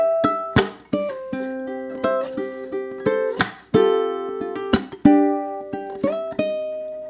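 Ukulele strumming chord stabs from a song, a rhythmic run of sharp, bright strums with ringing sustains and several quick chord changes, played close and alone.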